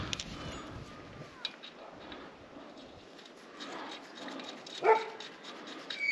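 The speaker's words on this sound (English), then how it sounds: "Oh, the dogs are out." Faint, distant dogs bark and yip a few times against a quiet outdoor background, with one slightly louder bark near the end.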